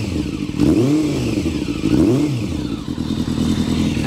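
A motorcycle engine with a carburettor problem runs close by and rises in two distinct revs over a steady idle, with a slight clattery edge.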